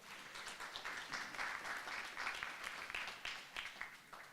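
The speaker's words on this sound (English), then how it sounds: "Give them a warm round of applause." Audience applause fills an indoor public event, a dense, steady patter of many hands clapping at moderate distance, fading slightly toward the end.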